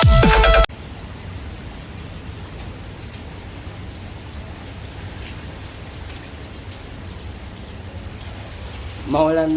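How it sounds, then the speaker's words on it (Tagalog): Heavy rain pours steadily on a surface in an even, dense hiss that fills the whole stretch, briefly interrupted by louder sounds at the start and end. "Napakalakas ng ulan."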